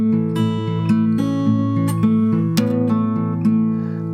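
A guitar is played finger-style through the opening verse of a song, with a steady, evenly paced run of plucked notes that ring and overlap, heard alone and up close.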